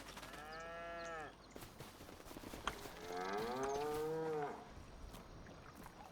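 Cattle on a dairy farm moo twice, a long low call and then a second drawn-out bellow, sounding close against a steady outdoor background.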